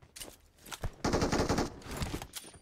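Video game gunfire: a few sharp shots, then a sustained rapid automatic burst, fairly close and loud, tapering into scattered follow-up shots.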